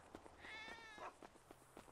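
A cat meows inside a GTA 5 roleplay game, one drawn-out, fairly clear mew of about half a second, heard alone with no talking over it.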